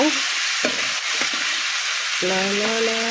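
Pumpkin with its peel being stirred and fried in a pan with mustard, salt and turmeric; a steady loud sizzle runs throughout, with a few scraping stirs cutting in.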